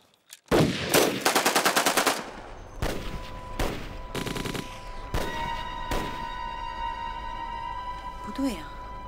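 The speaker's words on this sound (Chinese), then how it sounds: "开枪，为陆涯他们送行。" Rapid machine-gun bursts and single gunshots in a wartime drama set against Japanese forces, loud bursts in the first seconds followed by sporadic shots and a ringing tone, with voices in between.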